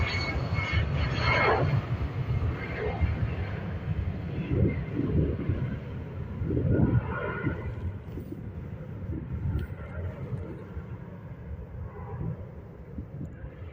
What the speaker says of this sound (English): Rotating directly in front of us, this A320.